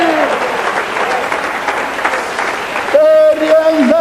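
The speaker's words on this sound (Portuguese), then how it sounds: "Aplausos ao Senhor" Applause from a Portuguese-speaking church congregation rolls on for a few seconds, then a voice rises over it in exclamation at the end.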